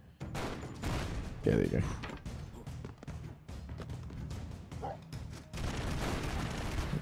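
Rapid bursts of gunfire and explosions from the side-scrolling action game Broforce rattle on steadily and loudly throughout, mixed with people talking over the game.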